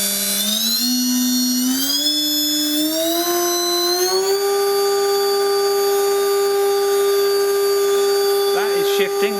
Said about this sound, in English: so let's run it up to maximum speed.